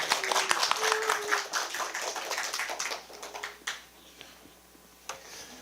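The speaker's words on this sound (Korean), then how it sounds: "우리 강사님 박수로 한번 환영할까요?" A lecture audience claps to welcome the speaker, a brisk burst of many hands that fades after a few seconds into scattered claps and then stops.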